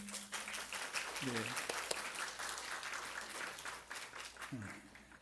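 A church congregation at a Sunday worship service applauds to welcome a newly registered member, steady dense clapping filling the room throughout, with brief voice murmurs rising above it.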